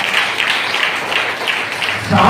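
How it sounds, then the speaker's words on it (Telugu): A church congregation claps together, a dense rhythmic patter of many hands filling the room at moderate loudness, steady throughout with a slight swell at the end. "చప్పట్లు కొడతారా?"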